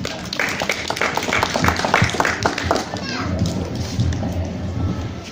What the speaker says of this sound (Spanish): Fuerte las palmas para él, por favor.